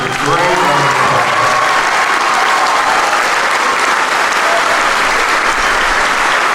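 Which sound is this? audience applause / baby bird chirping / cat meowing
audience applause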